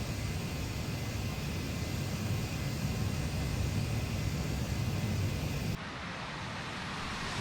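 A steady, faint roar from an AJS37 Viggen jet in DCS as it lands on a road and slows on reverse thrust, a broad hiss that holds evenly and then drops in level near the end, with no talking.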